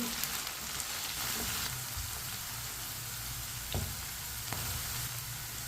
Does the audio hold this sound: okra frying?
yes